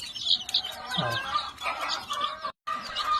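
Small free-range village chicks being fed, giving soft repeated chirps and clucks throughout, fairly close and moderately loud, with a brief pause near the end.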